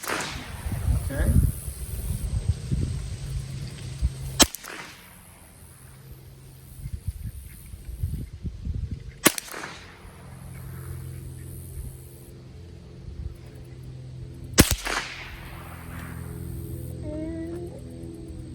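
Three sharp rifle shots from a Ruger 10/22 crack at even intervals during a sighting-in session, each a loud, abrupt report followed by a brief outdoor decay, with low murmured voices and quiet background noise between them.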